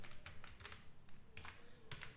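A formula is typed on a computer keyboard in a short run of quiet, uneven key taps, close and alone.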